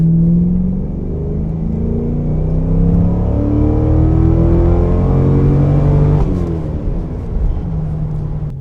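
A 2004 Holden Monaro CV8 V8 engine accelerates hard, its loud deep rumble climbing steadily in pitch, then it shifts gear and the revs drop and build again.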